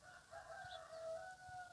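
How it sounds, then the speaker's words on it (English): Birds squawk at each other near a front porch feeder, giving a faint, sustained run of harsh, tonal calls that rise and fall over a steady outdoor background. "They're squawking at each other."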